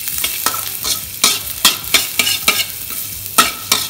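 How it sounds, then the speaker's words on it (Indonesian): Chopped garlic sizzles in hot oil in a pan, a constant close frying crackle broken by irregular scraping stirs of a utensil, with no talking. "Setelah minyak panas, kamu masukin bawang putih cincang."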